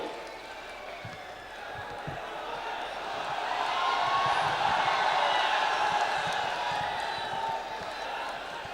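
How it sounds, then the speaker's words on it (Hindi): A mushaira crowd at an Urdu poetry and Kavi Sammelan gathering breaks into long applause, a dense wash of clapping that swells in the middle and then eases slightly, with a murmur of voices beneath. "ऐसे तालियां बजाओ, देर तक तालियां बजाओ।"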